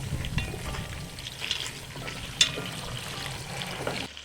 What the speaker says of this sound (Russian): И сейчас помешаю картофель.